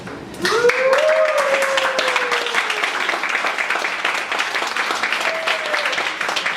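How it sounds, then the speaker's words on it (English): Loud, sustained applause from an audience at a startup pitch final event, with whoops and a voice over the top, the clapping dense and steady throughout. "Big applause."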